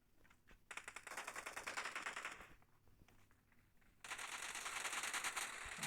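Rapid bursts of automatic gunfire from a gun in the mobile game BGMI during a team deathmatch, loud crackling volleys that pause briefly and then resume, with no one speaking.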